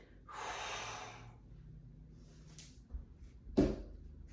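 Breathy exhales during a rowing exercise: a long airy breath early, then short sharp puffs and a snort-like burst near the end, close and fairly quiet.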